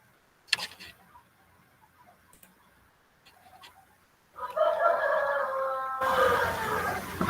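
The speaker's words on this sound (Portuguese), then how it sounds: "Rapaz, esse galo tá de sacanagem." A rooster crows loudly nearby in one long, strained call after a stretch of near silence broken only by a few faint clicks.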